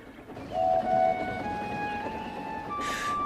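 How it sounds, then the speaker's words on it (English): A breakdown train sets off along a railway line to clear fallen trees, with long steady whistle-like tones over a low, continuous rumble, heard alone at moderate level. "Donald set off with the breakdown train, and Henry followed."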